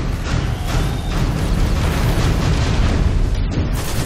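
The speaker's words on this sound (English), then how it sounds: "How about a rocket? Does he like those?" Rocket explosions from Destiny 2 fill the stretch with a loud, sustained rumbling blast, dense low booms rolling continuously with no pauses and no voices.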